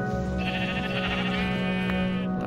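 A Minecraft sheep lets out a single drawn-out, nasal bleat, clear and close against a quiet game background.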